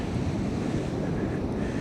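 Ocean waves breaking at the mouth of the Klamath River on a Northern California beach, a steady roar of surf mixed with wind buffeting the microphone, loud and unbroken throughout.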